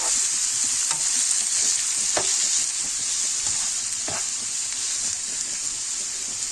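Onion frying in a small amount of ghee sizzles steadily with a bright, even hiss, while a spoon stirs and scrapes the pan in a few soft clicks. No one speaks.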